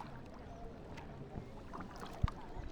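Paddles dipping and pulling through water as a rowboat moves along the coast, soft splashes and drips over light wind, with one sharp knock against the hull.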